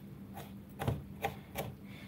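A knife chops a tomato into very small pieces on a board. About four soft, quiet thuds land at an uneven pace, with no talk over them.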